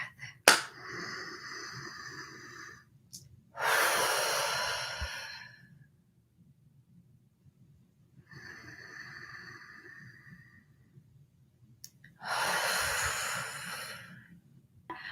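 Deep, slow breaths during a guided breathing exercise, with long audible exhales swelling and fading in a steady rhythm, close and fairly loud in an otherwise quiet room.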